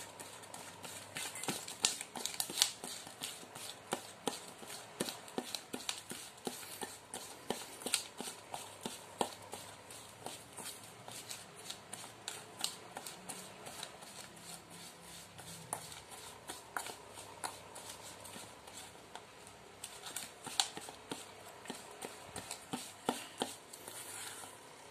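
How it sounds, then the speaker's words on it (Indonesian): Homemade carp fishing bait is stirred in a bowl, giving faint, irregular clicks and soft scraping taps that repeat throughout, quiet and close, with no speech. "kita aduk dulu"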